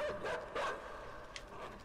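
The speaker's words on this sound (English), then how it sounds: "Dog's coming." A dog barking in the video game Inside, giving two or three short, close barks in quick succession over a steady background.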